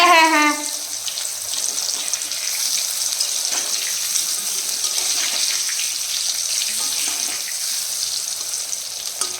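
A tap runs steadily while a metal tiffin box is washed beneath it, giving a continuous close splashing rush; a brief voice sounds at the very start.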